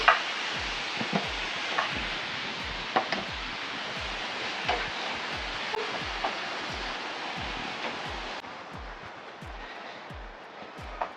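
Cactus and mixed vegetables sizzle steadily in a hot, oil-free pan, a loud, continuous crackling hiss with sharp pops and occasional stirring clatter throughout, no voices.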